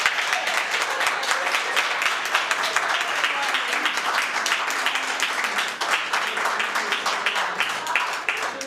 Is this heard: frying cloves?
no